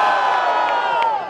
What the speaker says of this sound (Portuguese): Barulho para as rimas do Tito